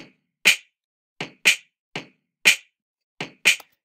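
A kick and snare drum beat programmed in GarageBand plays alone: sharp, evenly spaced hits alternating in a steady pattern, clean and punchy with silence between strikes.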